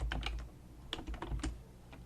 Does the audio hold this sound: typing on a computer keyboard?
yes